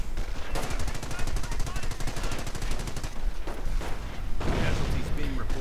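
Rapid machine gun fire from a war video game, a continuous fast rattle of shots up close, with bursts of explosions and heavier blasts layered in and a brief gap before firing resumes.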